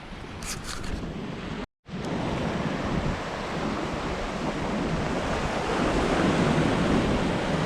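Sea waves washing onto the shore at San Telmo after a storm, a steady broad roar of surf with wind buffeting the microphone and one brief dropout near the start.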